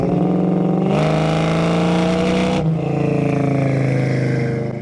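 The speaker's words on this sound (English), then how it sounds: "And if you want to, you can downshift." A restored 1965 Ford Mustang with a 302 V8, aftermarket headers and full-length dual exhaust roars loudly up close, its engine note jumping as it downshifts and then settling into a deep, steady rumble.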